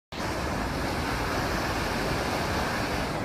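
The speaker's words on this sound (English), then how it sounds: "I want to give you a tour of this Alaskan waterfall we've been showing our kids" An Alaskan waterfall of glacier meltwater pours in a loud, steady, broadband roar heard up close, starting abruptly and holding constant with no voices.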